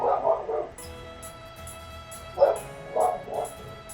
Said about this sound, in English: The sounds of my dogs going insane.